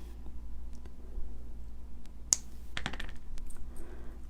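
Jewelry wire cutters snip the wire tail on a wrap for beaded earrings, giving one sharp metallic click followed by a brief cluster of small clicks over a steady low hum.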